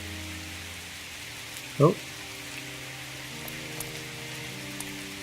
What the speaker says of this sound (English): rain lashes at the granite ridge, wearing down the old rock